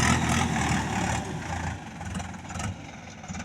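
Steady low drone of a 20 model tractor engine running nearby, loud at first and easing slightly, with a faint pulsing throb and no voices.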